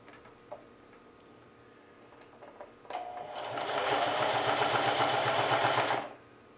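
Domestic sewing machine running a 1 mm zigzag stitch on a jeans pocket: after a few faint clicks, a loud, fast, even mechanical chatter starts and runs steadily for about three seconds, then stops abruptly.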